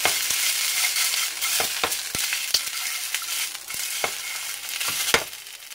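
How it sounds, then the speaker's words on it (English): Italian sausages searing in a hot pan give a steady loud sizzle and frying hiss, close up, broken by occasional sharp pops and crackles, with no voices. "so I got the sausages going, the Italian sausages"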